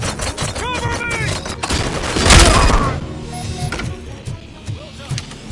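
Gunfire in Robocop Rogue City: rapid bursts of shots, with a loud heavy blast in the middle, amid close combat noise and shouted voices.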